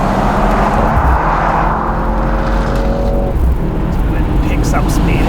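A Mercedes-AMG C63 S E-Performance, downsized with no V8, accelerates hard in race mode. Loud, continuous engine and road roar fills the cabin, with climbing whining tones as it gathers speed, and a voice is partly audible under the noise.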